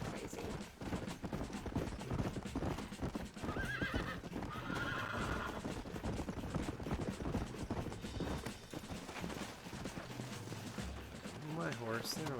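A horse in the Red Dead Redemption video game gallops with rapid clip-clop hoofbeats and lets out loud neighs, mixed with game effects while a person talks over it.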